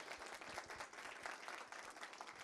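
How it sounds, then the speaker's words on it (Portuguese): A seminar audience applauds its speakers in a large room, a dense continuous wash of many hands clapping at moderate distance, fairly quiet overall and without a voice over it. "acho que a gente pode aplaudir os nossos palestrantes mais uma vez"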